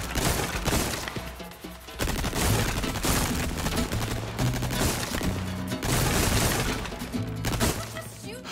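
Gunfire rattles from a gun in a video game, loud rapid volleys in clustered bursts with short pauses between them, close and harsh, with crashing impacts mixed in.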